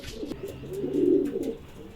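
A racing pigeon coos softly nearby, a low rolling call that swells and fades, with faint background noise and no talking.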